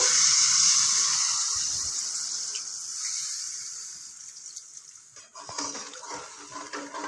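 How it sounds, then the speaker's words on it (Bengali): Hot water is poured into a simmering hilsa fish curry, giving a steady splashing gush that gradually fades, followed by softer bubbling and clatter, close by. "একটু জল গরম করে রেখেছিলাম একটু জল দিয়ে দিলাম আন্দাজ মতো"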